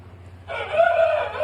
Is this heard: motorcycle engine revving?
no